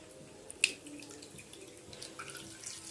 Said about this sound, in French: Donc après, je mets un peu d'eau.